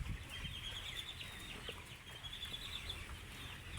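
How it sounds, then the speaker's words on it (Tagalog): A dense flock of chickens clucking and chattering continuously, a steady busy murmur of many birds close by with no voices. "Ito na po yung aming alagang manok, malalaki na po."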